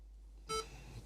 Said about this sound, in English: Beep. Cannot install.